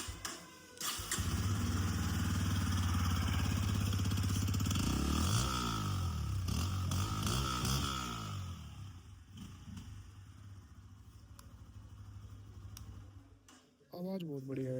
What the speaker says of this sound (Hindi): आवाज़ बहुत प्यारी है इस बाइक की भाई